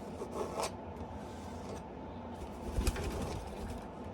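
A bird calls nearby outdoors during a painting session, with a few short cooing or chirping notes over steady background noise.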